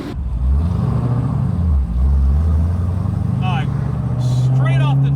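A manual Dodge Demon launches from a start, its engine note climbing under loud conversation inside the car.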